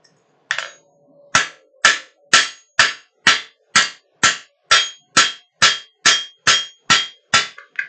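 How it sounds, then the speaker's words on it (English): Hammer blows ring out on hot metal over an anvil at a forge, a steady run of about fourteen sharp, loud, evenly spaced clangs, each decaying quickly, with no voices. "we'll straighten it out at the anvil"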